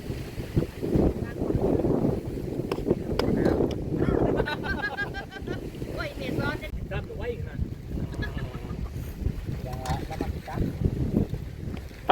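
Dry wind blowing hard outdoors, buffeting the microphone in a continuous rough rumble, with someone talking over it through much of the stretch.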